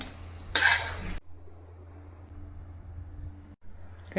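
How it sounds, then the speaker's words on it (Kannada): Roasted spice mix scraped from a pan onto a plate with a metal utensil, a short burst of clattering scrapes followed by quiet. "ಇವಾಗ ಒಂದು ಪ್ಲೇಟ್ಗೆ ಎತ್ತಿಡ್ತಾ ಇದ್ದೀನಿ"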